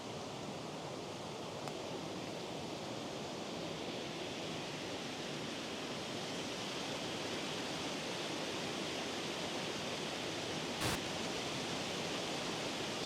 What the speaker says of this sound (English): that's the top of the waterfall, just through these bushes